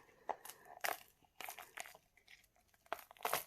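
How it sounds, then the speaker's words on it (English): Resin druzy crystal coasters crunch and crackle as they are pulled from their molds, giving a quiet, close series of brittle snaps and crinkly bursts at an uneven rhythm, with no talking. "they make this gorgeous crunching noise as you pull them out"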